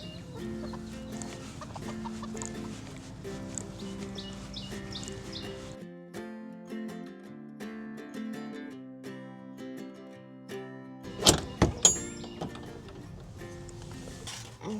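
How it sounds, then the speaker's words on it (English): Backyard hens at the coop cluck and murmur in short, soft bursts, fairly close but quiet, with a few sharper squawks and knocks near the end. "I'll check out the chickens."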